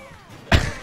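A forward smash attack lands on Charizard in a Super Smash Bros 3v3 match, a single sharp heavy impact after a quiet stretch, followed by a brief loud rumbling tail.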